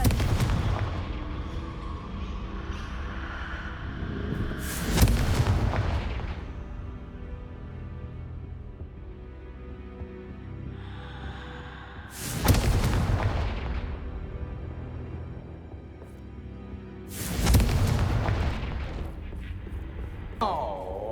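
Three loud Confringo fire-spell explosions in Hogwarts Legacy burst at intervals of several seconds, each a sharp boom with a decaying rumble over a steady low game ambience.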